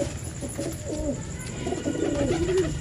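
Soft, low cooing of black Madrasi pigeons repeats a few times against a steady background hum, fairly close and without any talking.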